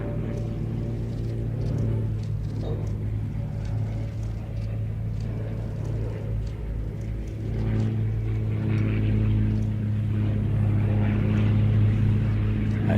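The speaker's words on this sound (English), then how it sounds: "the Mustang doing a great display from the Little Gransden Airshow" P-51 Mustang flying a display at the Little Gransden Airshow, a continuous deep engine drone that swells louder toward the end as the aircraft passes, heard from the ground with faint crowd noise.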